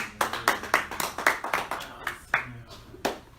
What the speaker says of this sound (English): Clap your hands for Jesus and you can take your seat.